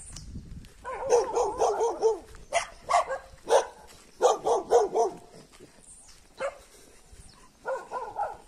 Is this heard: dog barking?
yes